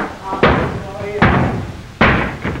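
A golf club strikes a wooden door three times in a 1933 comedy scene, each blow a loud sharp bang with a short decay, with a voice heard between the impacts.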